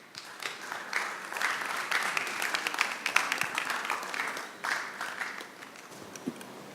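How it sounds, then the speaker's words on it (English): A crowd applauds steadily for several seconds, a dense patter of clapping that swells then gradually thins out. "Please give a warm round of applause to Mrs. Sheka."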